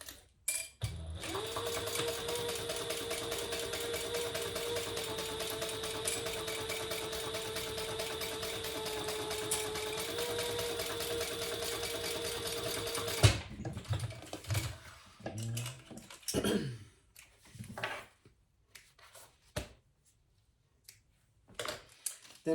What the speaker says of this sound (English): Put those right sides together, and we're going to sew those together at the top only